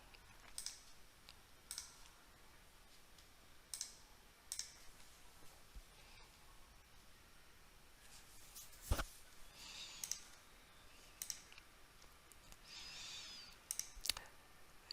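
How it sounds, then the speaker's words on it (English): Quiet, distant clicks and taps from a computer keyboard, in irregular bursts over a soft steady background hiss, with one sharper louder click midway and no talking. "I'll type in the answer if Joe is talking"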